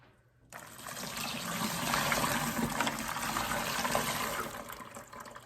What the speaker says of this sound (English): Let's do a little rinse on these.